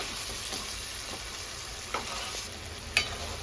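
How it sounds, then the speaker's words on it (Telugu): Onion and cashew paste fries in a pan, a steady soft sizzle with faint stirring scrapes and a couple of small clinks, quiet and close. "ఇది కూడా పచ్చివాసన పోయేంత వరకు ఫ్రై చేసుకోవాలి"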